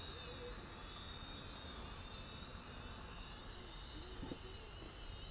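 Eachine E32HW 720p wifi quadcopter flying outdoors at a distance, a faint steady high-pitched motor whine held continuously over a constant low background rumble, with no talking.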